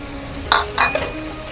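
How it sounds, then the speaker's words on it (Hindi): Kebab mixture with salt and chili flakes is being fried and stirred in a pan, with a low sizzle underneath a couple of distinct metallic scrapes and clinks of a utensil. "अच्छे से भून लेते हैं। साथ में डालेंगे थोड़े से चिली फ्लेक्स।"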